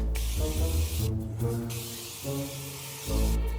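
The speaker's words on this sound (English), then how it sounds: "give the liner under the hood a little bit of spray too" A continuous aerosol spray hisses in several bursts with brief pauses onto the liner under a vehicle hood, close by, over a low humming background.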